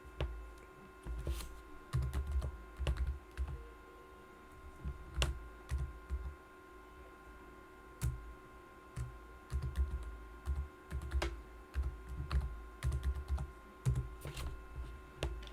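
Steady, irregular keystrokes on a computer keyboard as someone enters commands while configuring a Mitel MiVB phone system's voicemail call flow, with quick clustered taps and short pauses, close and alone without talk.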